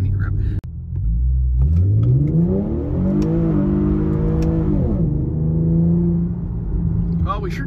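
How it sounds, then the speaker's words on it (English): An Infiniti G37/370Z engine revs hard as its tires spin under acceleration, a loud, close, rising drone that climbs and holds for several seconds before easing off. "Well, we sure do spin the tires quite easily."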